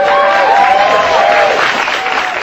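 Studio audience applauding and cheering for comedian Norm Macdonald, a loud continuous roar of clapping and crowd noise with voices mixed in, steady throughout.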